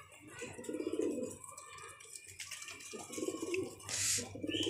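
A wild male pigeon near its nest of eggs coos in repeated low, throaty rolling phrases, fairly close and clear, with a brief higher chirp near the end.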